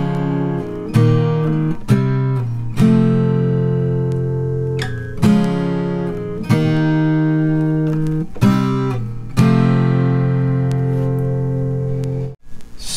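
Acoustic guitar plays the interlude solo of a song with ringing, sustained chords changing every second or so, close and clear with no talking.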